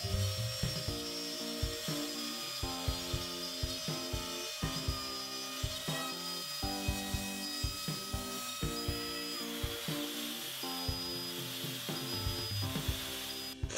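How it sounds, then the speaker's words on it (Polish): A Tryton multifunction router with a drill-bit cutter runs through plasterboard lengthwise, giving a steady close grinding rasp with rhythmic scraping bursts and no speech. "Przy użyciu wiertłofreza możemy czysto i dokładnie docinać wzdłużnie płytę gipsowo-kartonową."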